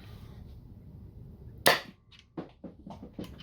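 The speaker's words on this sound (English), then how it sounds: "Now we'll try 3 rival balls and the improved rival shell that Boomstick made" A toy blaster pistol fires Rival foam balls: one sharp, loud snap stands out, followed by several smaller clicks and thumps in quick succession, heard alone at close range.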